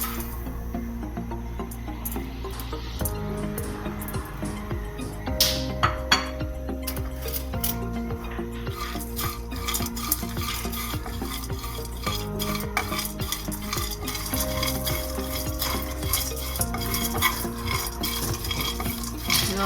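Peanuts dry roasting in a pan on a stove, stirred with steady scraping and clinking of the utensil against the metal, close and continuous over a low background hum.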